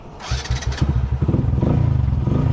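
Motorcycle with an aftermarket starter motor cranks and fires up, settling into a steady, rhythmic idle putter up close, loud and alone after a brief starter whir.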